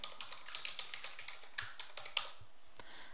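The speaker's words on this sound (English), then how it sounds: "you type in your event type here" Quiet typing on a computer keyboard, a run of soft, rapid key taps at close range with a few sharper strikes and no voice.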